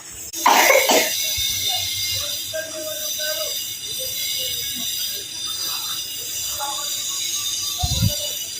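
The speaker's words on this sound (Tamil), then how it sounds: "இருமல், அதான் இருமிட்டே இருக்காங்க." A sick child coughs sharply near the start, with faint rumbling background noise and a softer cough or thump near the end.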